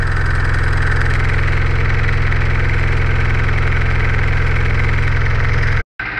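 Close and loud, the small engine of a Tasso Bingo microcar idles with a steady throbbing, rattling vibration, then cuts abruptly near the end before a brief resumption.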